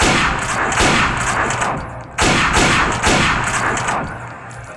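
Heavy gunfire erupts in rapid bursts, several loud sharp volleys rolling into one another with brief dips, dense and close with no voices.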